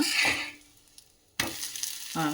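Thalipeeth flatbread cooks on a pan over medium flame, a close sizzle that fades to near quiet, then a sharp burst as it is flipped and the hiss swells again.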